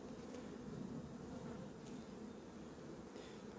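Honeybees at a hive where young bees are emerging make a dense, even buzzing hum, close and continuous with no other sounds.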